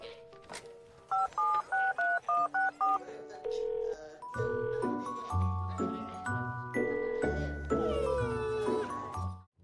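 A touch-tone telephone dials before a Santa message phone call: a quick, even run of about eight loud dual-tone beeps, followed by longer warbling, sustained tones that continue clearly until the end.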